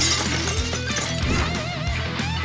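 Glass breaking at a workplace, heard as a loud, dense crash and shatter of glass with bright scattered fragments ringing through the whole moment.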